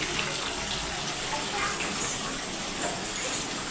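Water running steadily from a tap in an outdoor home setting during preparations for a mutton feast, a continuous close gush with no pauses.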